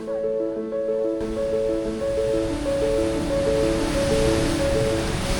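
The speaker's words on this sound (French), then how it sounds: "C'est magnifique, regardez les vagues." Ocean waves breaking on a Tahiti shore form a steady, broad roar of surf that swells in after the first second, with a melodic tune playing over it.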